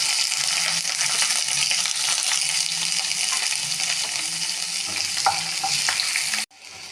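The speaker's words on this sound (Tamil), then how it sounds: "அடுத்து சிறிய வெங்காயத்தை சேர்த்து நன்றாக வதக்கவும்." Small onions sautéing with curry leaves in a pan, a dense steady sizzle and hiss with faint stirring, close and even, cutting off abruptly near the end.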